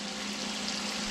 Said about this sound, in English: Step one, cook bacon.